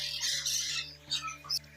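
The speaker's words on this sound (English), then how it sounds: "that guy over there, that is a Gala cockatoo. It is a different type of cockatoo." A galah cockatoo at a bird park gives harsh, loud squawks in a short burst, with repeated raspy calls close by and a low steady hum underneath.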